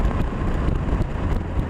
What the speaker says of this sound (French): C'est pas le bruit à l'échappement, c'est le bruit de la boîte à air.